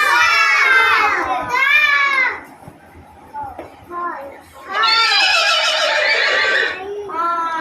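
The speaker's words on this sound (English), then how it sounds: "Horse." Recorded horse neighing plays loudly in a kindergarten classroom, with several long, quavering whinnies separated by a short lull that carries softer sounds and voices.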